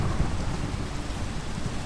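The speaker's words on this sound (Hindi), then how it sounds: "अरे यार ये इतनी क्यों गरज रहे हैं?" Heavy rain pours steadily with deep rumbling thunder in a video game survival world, a dense continuous storm wash with no talking.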